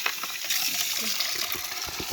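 Running water pours and gushes steadily into a container, a continuous close splashing hiss with faint background voices.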